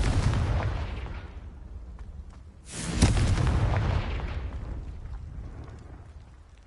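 A Confringo fire spell blast in Hogwarts Legacy: a sudden loud burst and roaring explosion about midway, rumbling and fading over a few seconds above a low ongoing game rumble.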